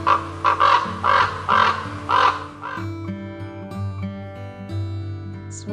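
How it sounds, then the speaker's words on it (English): Raven cawing in a few loud, harsh calls spaced about a second apart, then giving way to a tonal, melodic passage that fills the rest of the clip. "Raven,"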